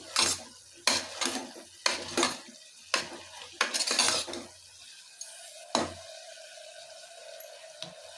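Turmeric is stirred into sambar masala frying in a pan, with a series of sharp spoon scrapes and clinks against the metal about once a second over a low sizzle, then a quieter simmering stretch.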